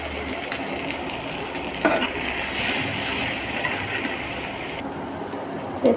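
Onions hit hot oil in a pan for an egg and potato curry, giving a loud, steady, close sizzle throughout, with a couple of brief clatters from stirring.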